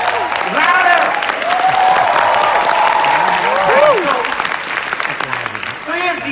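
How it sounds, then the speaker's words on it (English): Loud audience applause from a large crowd filling the room steadily for several seconds, with some cheering voices and shouts mixed in over the clapping. "So give that big round of applause to the company."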